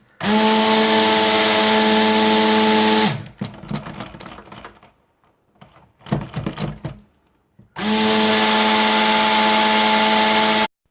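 A kitchen blender briefly whizzes a nearly full jug of mixture: two loud, steady motor bursts of about three seconds each, separated by close knocking and handling clatter.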